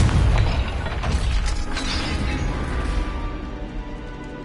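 A Confringo fire spell explodes in Hogwarts Legacy, opening with a loud, close boom that breaks into crackling, rumbling debris and a long noisy decay fading over several seconds.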